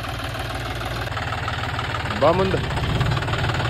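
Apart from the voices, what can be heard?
tractor engine idling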